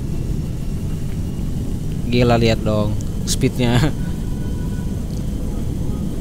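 In a GTA 5 mod, a Boeing 737-800F's steady low engine roar drones throughout in flight, while someone speaks briefly in an excited tone over it.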